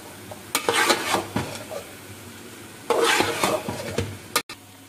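Two cups of rice go into a potato chutney fried in ghee, sounding as bursts of rattling grains, spoon scrapes and stirring against the pot over a faint sizzle, close and with no voices.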